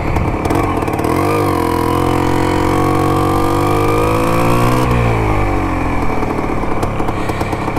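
A Can-Am bike engine running on a test ride after restoration, a loud, steady mid-pitched drone close to the rider with rising and falling revs as it accelerates and eases off, no speech.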